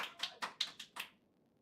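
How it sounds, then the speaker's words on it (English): An audience at an esports tournament grand final gives a short run of about six quiet, evenly spaced claps that stop after roughly a second, leaving near silence. "You hear claps."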